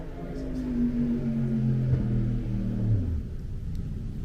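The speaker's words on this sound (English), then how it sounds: "Ooh, you got a fast car." A fast car passes outside, a muffled rising and falling engine rumble that swells and fades over a few seconds, distant and heard from indoors.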